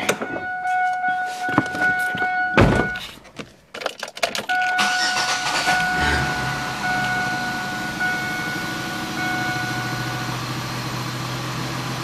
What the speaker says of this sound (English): let's fire it up and give it a try